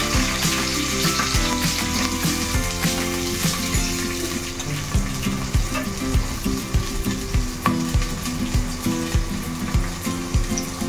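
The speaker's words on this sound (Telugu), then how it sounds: "ఫస్ట్ ఆనియన్ వేస్తున్నాను ఫ్రెండ్స్" Onion sizzling in hot oil in a pan, a steady bright crackle with repeated stirring knocks and scrapes, close and fairly loud.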